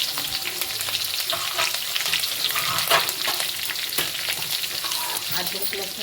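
Green chillies and cumin seeds frying in a pan for pav bhaji, a steady close crackling sizzle with scattered pops and occasional stirring scrapes throughout, no voices.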